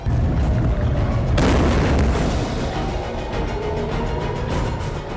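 Iranian missile striking the city of Haifa, a loud, heavy explosive boom with a sharp burst partway through and a dense rumbling roar that continues throughout.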